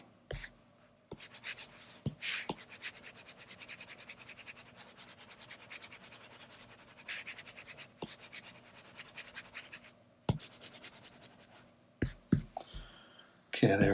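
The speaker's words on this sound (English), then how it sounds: "really push down on that pencil" A pencil is pressed down hard while sketching a cartoon dog on paper, giving steady close scratchy strokes with a few sharp taps.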